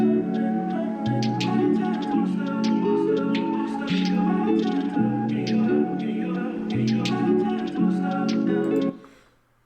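A lo-fi chord loop sample plays mellow, warm repeating chords with a soft melodic layer in a steady cycle, then cuts off abruptly at the end.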